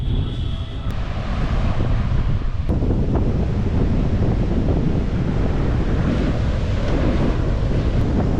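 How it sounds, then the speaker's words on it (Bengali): Monsoon-season ocean surf breaking on the beach at Mandarmani, a loud, continuous roar of waves mixed with heavy wind buffeting the microphone throughout, with no talking. "প্রচুর ঢেউ আজকে প্রচুর ঢেউ যেহেতু এখন বর্ষা চলছে"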